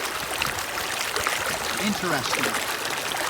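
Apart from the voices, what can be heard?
flowing water of Stegman Creek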